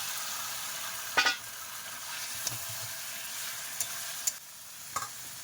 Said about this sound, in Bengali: এইবারে ঢেকে দেবো মাংস কষাই হচ্ছে